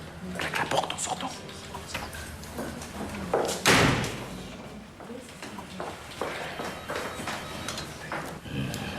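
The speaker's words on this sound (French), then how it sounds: "Sophie, claque la porte en sortant." A door slams shut with one sharp, loud bang in the middle of a busy indoor scene, with voices talking before and after it.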